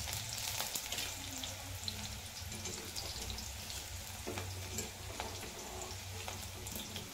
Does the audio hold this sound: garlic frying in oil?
yes